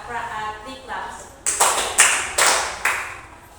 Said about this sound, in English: a big claps